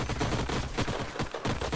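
Rapid rifle gunfire from the Age of Wonders: Planetfall strategy game, a burst of several sharp shots in quick succession filling the clip at steady moderate loudness, with no talk.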